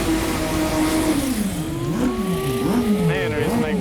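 A turbocharged drag bike makes a pass down the strip, its engine note climbing steadily and loudly as it accelerates, with a commentator's voice talking over it.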